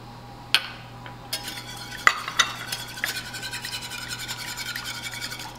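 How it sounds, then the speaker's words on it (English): Eggs and sugar are whisked in a pan for lemon curd, a steady scraping and stirring with a few sharp metallic clinks near the start, close and moderately quiet with no talking. "So we're just gonna keep whisking"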